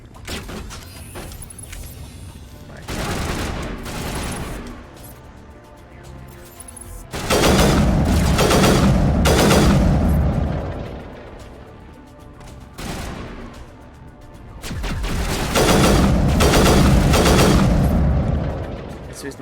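Bursts of heavy gunfire in the video game Mass Effect Legendary Edition, loud booming volleys and rapid shots arriving in several long waves separated by quieter gaps, with occasional speech mixed in.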